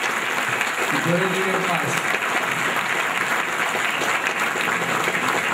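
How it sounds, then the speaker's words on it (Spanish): Applause from a congregation at a Catholic Mass fills the clip steadily while someone speaks briefly in Spanish over the clapping. "Un aplauso a estos hermanos, Dios los bendiga"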